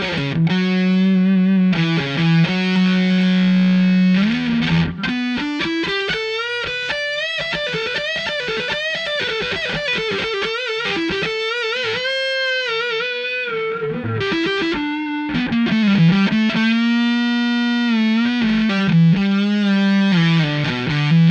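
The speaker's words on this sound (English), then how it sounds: "a kind of rat in a box kind of distortion" Electric guitar runs through a Brelliott Deluxe TODP distortion pedal in a rat-style fuzz setting, playing sustained notes and bending melodic lines, buzzy and saturated, loud and close with no talking.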